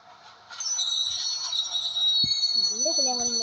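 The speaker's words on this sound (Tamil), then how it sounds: "இந்த ட்ரெயின் வந்து ஹவுரா எக்ஸ்பிரஸ்" A passing train in the mobile driving game Indian Bike Driving 3D, a steady rumbling roll with a bright sustained tonal whine, rising after the first half second and joined near the end by a short sliding horn-like tone.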